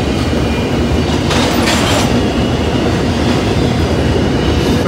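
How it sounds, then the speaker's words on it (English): Norfolk Southern and BNSF freight trains roll by close and loud, a continuous heavy rumble of wheels on rails with clattering and faint metallic squeals throughout. "the trains are rolling"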